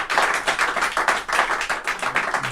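Audience at the 68th Coupe Aéronautique Gordon Bennett ballooning awards applauding the bronze medalists, a steady, close burst of many hands clapping with no talk over it.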